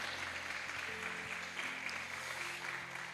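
A church congregation claps during a teaching service, steady rapid applause across the room mixed with a sustained low hum, at moderate level throughout.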